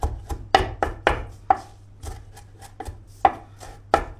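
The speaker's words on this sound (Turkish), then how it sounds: "Aynı köfte yapar gibi doğruyoruz böyle" A knife finely chops bonito fish on a board for fish köfte: quick, irregular bursts of close, crisp strikes, some in rapid pairs, over a faint steady hum, with no speech.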